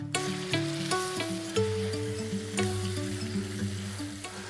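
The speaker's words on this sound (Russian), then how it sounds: "теперь ее надо вкусно пожарить вместе с луком" Steady sizzling of chicken frying with onion in a pot, with repeated scraping and clanking of a utensil stirring, no voices.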